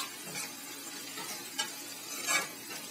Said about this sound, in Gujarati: ત્યાર પછી એને હલાવી દઈશું.